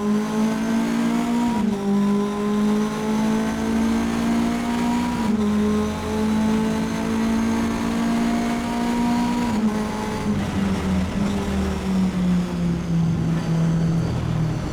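A Mitjet race car accelerates hard on the track at Magny-Cours in stormy weather, its engine note holding a steady loud drone with brief dips at each gear change and a slow fall in pitch near the end.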